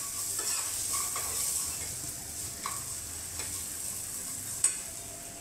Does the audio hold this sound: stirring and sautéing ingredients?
yes